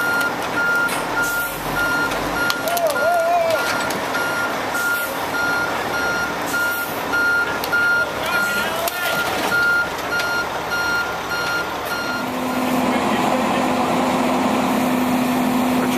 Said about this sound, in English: So what we're going to do is roll the rollback back a bit.